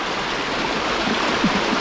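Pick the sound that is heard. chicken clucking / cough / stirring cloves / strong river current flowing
strong river current flowing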